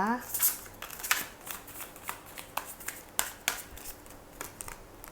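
A tarot deck is shuffled by hand, producing quiet, close, repeated riffling and soft card slaps in an irregular rhythm, with a brief voice at the start.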